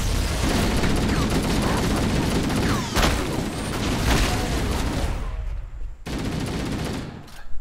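Grenade blast and gunfire against an Elite in Halo: Combat Evolved Anniversary, a dense loud fusillade with sharp bursts and a heavy crack near the middle, briefly cutting out before the battle noise resumes.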